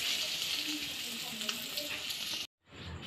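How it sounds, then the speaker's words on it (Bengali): Paneer frying in oil in a pan gives a steady, close sizzle with soft crackles, broken by a brief silence near the end before the hiss returns. "এবার পনির ভাজা চলছে"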